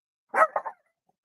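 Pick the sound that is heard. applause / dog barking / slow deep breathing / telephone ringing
dog barking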